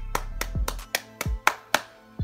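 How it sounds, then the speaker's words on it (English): About seven separate hand claps in a slow, uneven rhythm, sharp and close, with low thumps in between. "let's give a round of applause"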